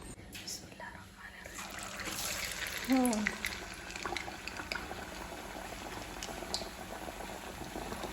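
Jackfruit pieces frying in hot oil in a home kitchen give off a steady, close bubbling sizzle that runs the whole time, with a faint voice briefly underneath.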